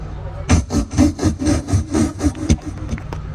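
A voice mimics a saw cutting wood with about eight rhythmic, breathy rasping strokes, loud and close, that taper off near the end.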